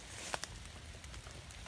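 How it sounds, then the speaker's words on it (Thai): Heavy, storm-like rain in a black forest, a faint, continuous broadband patter with a few closer drips near the start. "มันแห้งแต่ว่ามื้อนี้ฝนตกครับเหมือนพายุเขาเลยละ"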